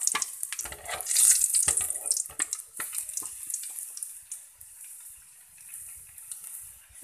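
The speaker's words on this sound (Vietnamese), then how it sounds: "Sau đó bạn cho ít tỏi vào đây để phi cho thơm nha." Garlic sizzles in hot cooking oil in a pan, a bright hissing crackle that swells loudly at first, then settles into a softer steady fry, close up, with no one talking.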